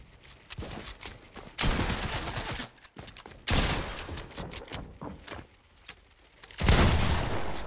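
Video game shotgun fire rings out in loud, heavy bursts, several blasts clustered across the stretch with short gaps between, and no one talks.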